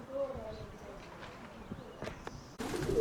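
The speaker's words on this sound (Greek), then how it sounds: "Ναι, μαζεύονται συνέχεια τα πουλιά, μισό λεπτό." Pigeons gathering in a loft setting give soft cooing calls, faint and somewhat distant, alongside light rustling, a few thuds and a burst of noise near the end; someone talks quietly in the background.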